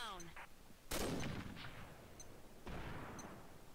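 Gunfire in the online shooter Combat Arms: a few sharp, loud game gunshots with reverberant tails, one burst near the start and another later, over faint game background.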